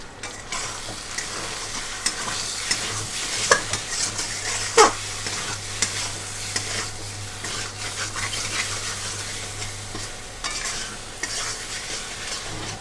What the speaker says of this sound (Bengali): গ্যাসটাকে হাই করে খুব ভালো করে মশলাটা কষে নেবো